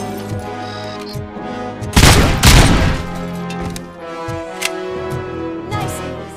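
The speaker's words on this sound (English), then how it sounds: "Boy, this handgun is loud." A handgun fires in the game RoboCop Rogue City, with a loud cluster of shots in the middle over game music and ambient noise, then a few lighter isolated reports afterward.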